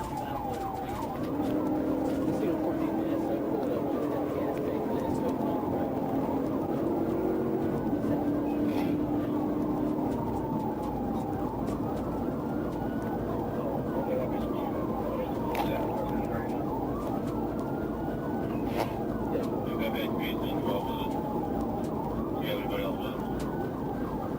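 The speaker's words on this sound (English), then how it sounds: "troopers activated their emergency lights and sirens" A police car siren wailing, rising and falling in repeated slow sweeps for over twenty seconds during a chase, moderately near, with road noise and occasional voices underneath.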